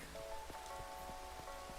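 Rain in Minecraft, a faint, steady patter of drops on surfaces with small ticks scattered through it, heard alone and without speech.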